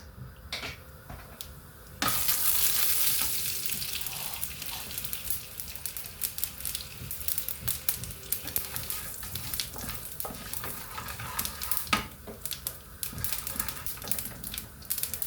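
Curry leaves, onions and green chillies hit hot oil for a Kerala-style cabbage, coconut and egg stir-fry: a sudden loud crackling burst that settles into steady close sizzling, with irregular clicks and scraping from stirring, and no talk.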